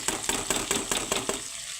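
Malabar spinach stems with turmeric, chilli, cumin and coriander powders and salt stirred in a sizzling pan, a few quick rhythmic scrapes over a steady fry.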